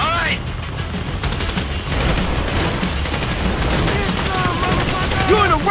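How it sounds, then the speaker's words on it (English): Bursts of automatic gunfire crackle through a bank heist in Grand Theft Auto V, rapid overlapping shots with booms and mechanical clatter, loud and continuous, with a few voices over the shooting. "You hear that gunfire?"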